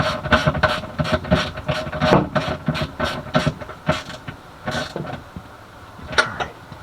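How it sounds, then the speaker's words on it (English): A hand ratchet tightens a 10 mm bolt on a third brake light bracket on a Cutlass, giving a run of quick, close clicking bursts in an uneven rhythm, with no talking. "all I gotta do is tighten this bracket down in the end, which is just 10 millimeter"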